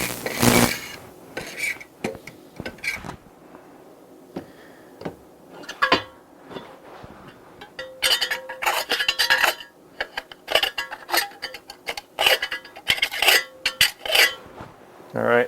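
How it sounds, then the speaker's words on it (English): Ash from a previous burn scraped out of a rocket stove with a gravity pellet feeder: uneven metallic scrapes and clanks, sparse at first, then dense, rapid rasping in the second half. "So I'm going to just scrape out the ash from the previous burn."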